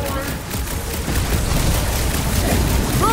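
Gunfire and explosions crackle and boom in a dense, continuous barrage in a Guardians of the Galaxy video game, loud and close, with voices talking over the battle.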